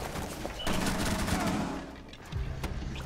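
Gunfire from the Rainbow Six Siege video game, a dense burst of rapid shots over busy game noise, with a short pause before more firing near the end.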